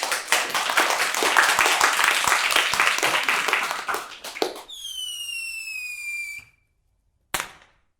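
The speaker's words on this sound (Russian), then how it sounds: "Клевая хлопушка, где взял?" A party popper goes off with a single sharp pop and brief decay near the end, after loud applause and clapping and a sliding whistle-like tone at a documentary film premiere screening.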